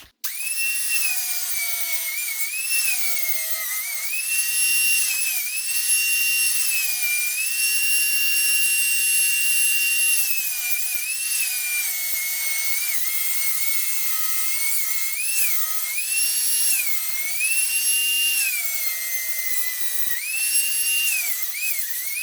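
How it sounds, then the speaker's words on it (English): Angle grinder cutting into a kitchen wall down to the plaster, a loud sustained high whine rising and dipping in pitch as the disc bites and eases, steady and alone throughout. "So I'm going to use an angle grinder for the rest, just to go to the plaster."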